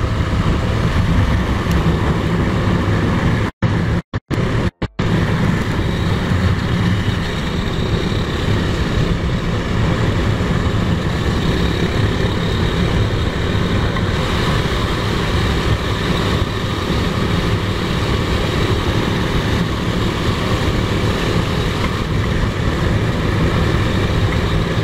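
Daytona Force 200 motorcycle engine on an enduro ride up a mountain, a loud, steady broadband drone with wind rush that stays constant throughout, briefly cut out by a few short dropouts early on.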